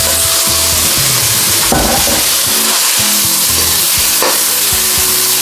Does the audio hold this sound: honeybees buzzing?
no